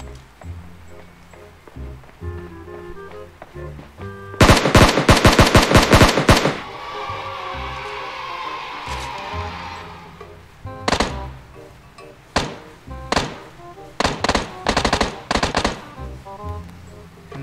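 Gunfire in a PUBG Mobile firefight: a loud rapid burst of automatic shots, a lingering echo, then scattered single shots and short bursts further on, with brief talk in between.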